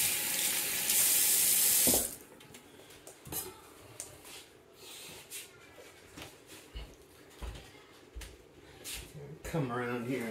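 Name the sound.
hands being rinsed under running tap water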